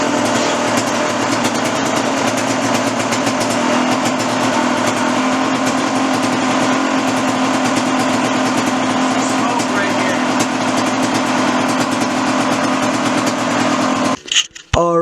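A KTM dirt bike engine idles close by with a buzzy, steady putter at constant loudness, then cuts out with a few sharp knocks at the end.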